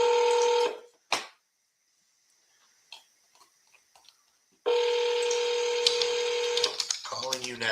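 Phone dialing tones when calling sales leads: bursts of electronic tones at the start and again for about two seconds near the end, separated by a quiet gap with faint clicks, with a voice speaking over the end.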